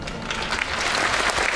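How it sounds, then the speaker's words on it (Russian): An audience at a folk song and dance ensemble's anniversary concert applauds loudly and continuously, a dense wash of clapping that holds steady throughout. "Громкие аплодисменты, дорогие!"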